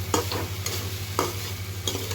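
A spatula scrapes and clatters against a pan in a loose rhythm of several strokes while food sizzles, over a low steady hum.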